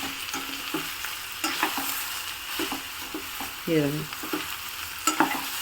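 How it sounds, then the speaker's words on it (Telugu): Ivy gourd pieces with turmeric are stirred in a hot frying pan: soft sizzling under repeated scraping strokes of a spoon, with a brief metallic clink near the end, fairly quiet and close. "పసుపు వేసుకుని ఒక్కసారి ఇట్లా కలుపుకోవాలి కలుపుకుని మూత పెట్టేసుకోవాలి"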